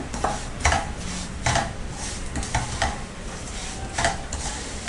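Rava burfi mixture frying in a pan as a spoon stirs it, with a soft continuous sizzle and regular scraping strokes close by and nobody talking.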